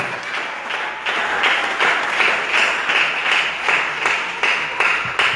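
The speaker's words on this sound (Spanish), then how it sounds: "déselo buen aplauso al Señor en esta hora" A church congregation breaks into sustained applause, a dense wash of many hands clapping steadily at close range, rising and holding loud throughout with rhythmic swells, no voices standing out.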